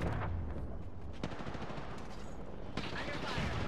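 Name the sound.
gunfire in the video game Apex Legends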